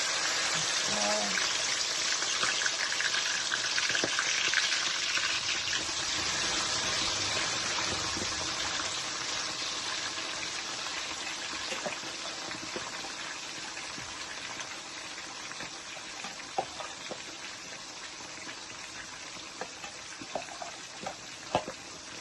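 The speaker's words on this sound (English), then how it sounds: "So I'm just gonna leave this to fry, well fried" Herring frying in hot oil in a pan, a continuous dense hiss and crackle with scattered pops, steady and close, with occasional faint background sounds.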